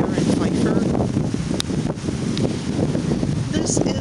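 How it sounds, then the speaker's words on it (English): Strong wind buffets a microphone outdoors on a blustery day in Chicago, a loud, continuous low rumble with gusting surges throughout, mixed with faint murmuring that may be a voice. "It's very windy today here while I'm doing this review because I'm in Chicago"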